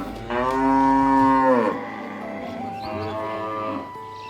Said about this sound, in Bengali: কালো গরু।